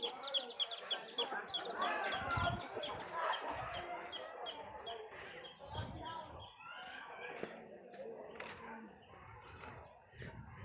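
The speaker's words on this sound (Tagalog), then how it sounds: "May manok guys." Chickens clucking in a rural countryside setting, with a rooster-like call among them, heard close and fairly steady while people talk over much of it.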